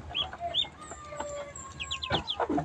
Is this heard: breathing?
no